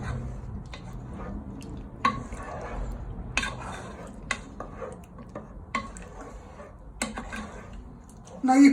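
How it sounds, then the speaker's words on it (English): A prawn and chorizo risotto is stirred in a pan, giving irregular scrapes and metallic clinks of the spoon on the pan, with soft wet bubbling underneath and a louder clatter at the end. "And you want to give it a little stir"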